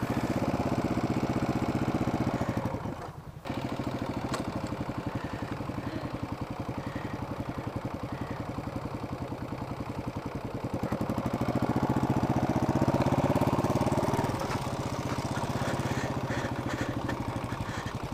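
Dual sport motorcycle engine running as a new rider works the throttle and clutch, a close, steady mid-pitched thrum that dips briefly, then swells with added throttle before settling back to a rough, pulsing run.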